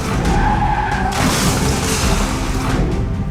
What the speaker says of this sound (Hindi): सफेद रंग की कार तेज रफ्तार में आई और धार से स्कूटी और ऑटो में टक्कर मार दी।